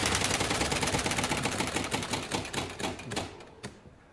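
A Wheel of Fortune UK game-show prize wheel spins with a rapid, steady run of sharp clicks that gradually slow and thin out before stopping near the end, loud and close with no talk.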